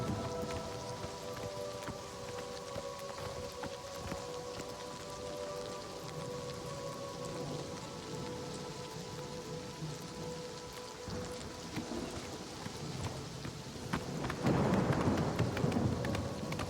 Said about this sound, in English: Enjoy the rain.